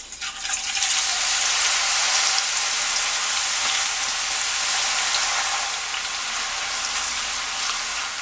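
Potato chips deep-fry in hot oil with a steady, loud, close sizzling hiss that holds for several seconds with no talking.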